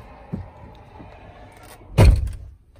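A truck cab door swings shut with a heavy, rattling thunk, loud and close, after a softer knock earlier.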